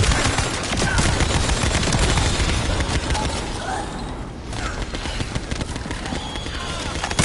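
Rapid gunfire from the Thunder Cage weapon in the video game The First Descendant, with dense, continuous bursts and mechanical clatter filling the whole stretch, loud and close with a brief lull near the middle.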